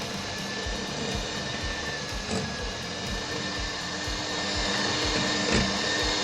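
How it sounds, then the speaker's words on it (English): A handheld electric mixer whirs steadily as it mashes bananas into smooth cake batter, a loud, continuous motor drone with faint rhythmic knocks against the bowl underneath. "I took my handheld mixer and made sure that I broke everything down to a smooth consistency."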